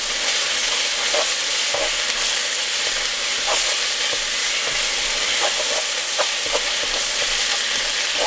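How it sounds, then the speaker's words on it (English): Ginger and garlic paste fries in a pan over low heat with a loud, continuous sizzle, and a utensil stirs through it in repeated soft scrapes and taps. "Lower heat to low, add ginger and garlic paste and fry for 2 minutes."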